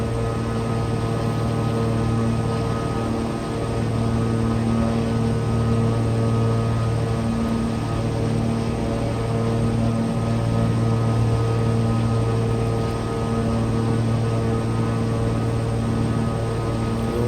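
Twin propeller engines of a Beechcraft Baron in Microsoft Flight Simulator, a steady droning hum with strong tonal buzz and constant cockpit noise, loud and unchanging throughout, with no talk.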